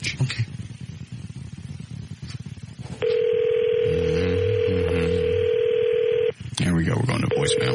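A telephone number is dialed as a quick run of DTMF keypad tones over a steady dial tone, heard loudly between stretches of someone talking before and after.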